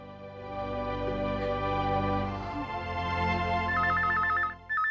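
A telephone rings indoors beneath a sustained musical drama score, its electronic trilling bursts appearing faintly near the end.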